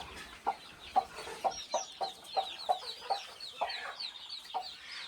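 Repeated short clucks from chickens, with higher chirping calls layered over them, close and continuous over a light background.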